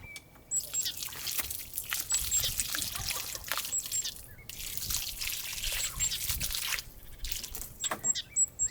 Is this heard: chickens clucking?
no